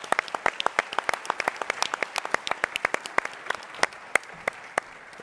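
Applause from the crowd at TechCrunch Disrupt 2022 in San Francisco, thinner and more scattered, with many distinct sharp claps standing out over a lighter bed of clapping that keeps going throughout.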